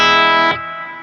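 Fender Richie Kotzen Telecaster on its bridge pickup at full volume, a loud sustained chord run through effects, ringing with distortion and chorus before cutting down to a quieter decaying tail halfway through.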